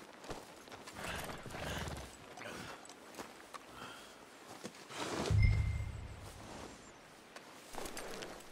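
Horse hooves clip-clopping in the video game Red Dead Redemption 2, a loose run of soft irregular footfalls at moderate distance, with a heavier thud midway and faint ambient background.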